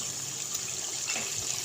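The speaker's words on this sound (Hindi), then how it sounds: "हमारे पानी का अच्छा सा बॉयल आ गया है" A pot of water at a rolling boil for egg ghotala gives a steady, close bubbling hiss that stays even and continuous, with no talking.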